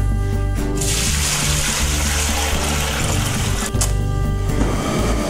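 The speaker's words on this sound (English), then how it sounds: "just take this 2 gallons of water, put it in here" Two gallons of water poured into a cooking pot, a steady loud rushing splash that runs without a break, with a short dip in the flow near the end.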